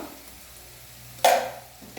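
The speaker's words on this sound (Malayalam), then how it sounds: "നന്നായിട്ട് വീണ്ടും ഒന്ന് ഇളക്കാം." Spoon stirring chilli pickle with fenugreek powder in a pan, a soft sizzling bed with one sharp scraping clank near the end, close and without talk.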